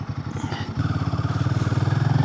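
A motorcycle ridden on the road to Manali, its engine throbbing in a steady rapid pulse that grows louder and more even after a short shift, close up with no talk.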